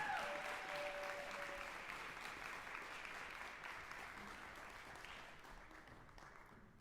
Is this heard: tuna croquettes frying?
no